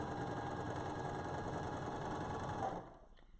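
A sewing machine runs continuously, stitching through a quilt with a steady mechanical whir and hum, then slows and stops near the end; no talking.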